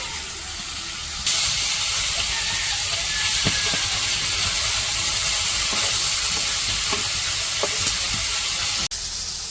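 Fish fry in a pan in a village kitchen, giving a continuous hiss and sizzle with a few small pops and clicks. It jumps louder after a second and holds steady until a sharp stop near the end.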